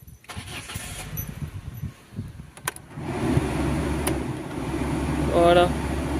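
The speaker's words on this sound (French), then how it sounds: "Hop, je démarre la voiture." A Peugeot 307 1.6i petrol car, one with a heating fault, cranks and fires up about halfway through, then settles into a steady low idle rumble. Faint voices and clicks come before the start.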